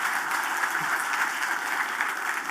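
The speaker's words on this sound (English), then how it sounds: "can I hear a big round of applause for Maxim?" Applause from an audience at a tech conference session, a dense, even wash of clapping throughout at moderate distance with no break.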